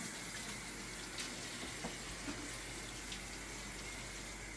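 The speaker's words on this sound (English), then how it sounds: "let me wash my hands" Hands are washed under a running kitchen tap during cooking, a steady, faint hiss of flowing water with a few small splashes and clinks and no speech.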